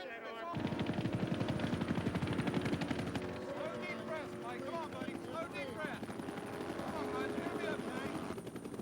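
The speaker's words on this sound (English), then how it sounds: "Mike was packaged for the first helicopter transport" Rescue helicopter at a NASCAR crash scene, there for medical transport of an injured driver, its rotor a steady loud pulsing throb throughout with voices talking over it.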